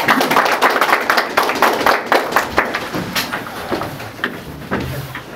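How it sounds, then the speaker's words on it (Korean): Meeting attendees applaud together to close a discussion meeting about resolving the Gangneung CC issue; dense, continuous group clapping fills the room for several seconds, fading slightly toward the end. "다 같이 박수로 마치겠습니다"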